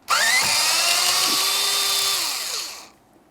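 A power drill or impact driver whirs steadily for nearly three seconds, then winds down, backing out a 7mm-headed bolt beside the steering column adjuster lever of a 2005-2010 Chevrolet Cobalt, loud and close.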